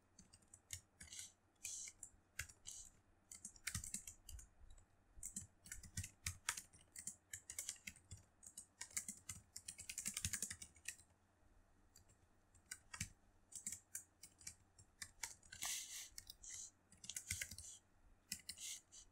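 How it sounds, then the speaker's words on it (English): Quick, uneven clicking keystrokes on a computer keyboard while C++ code is entered, faint and close, coming in short bursts with brief pauses and no voices. "So I'll type in the 5 different operations that we are going to perform."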